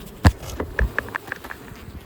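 Brief buzzing of honey bees close by as they are shaken into a hive, short intermittent buzzes and a few soft thumps, with no voices.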